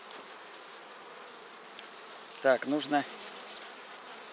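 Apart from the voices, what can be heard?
honeybees buzzing on a queen cell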